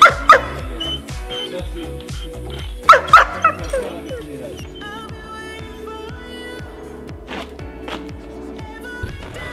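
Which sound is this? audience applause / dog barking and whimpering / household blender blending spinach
dog barking and whimpering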